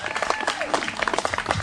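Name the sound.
audience applause at a family roast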